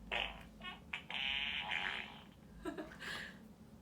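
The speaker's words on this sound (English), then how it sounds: "So let's see what the farted monster sounds like." A cartoon farting monster sound effect from a noisy children's book plays alone in several loud, rumbling and sputtering bursts over about four seconds.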